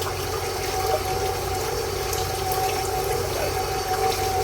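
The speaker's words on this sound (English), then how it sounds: "Rinse my fingers." Tap water runs steadily over fingers at a kitchen sink while making French bread dough, a close, even, continuous rush with a faint mixer hum beneath.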